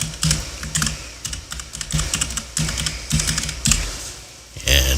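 Rapid, uneven keystrokes on a computer keyboard as a password is entered at a remote-monitoring login, clicking in close bursts with brief pauses, and a faint voice appears in the background.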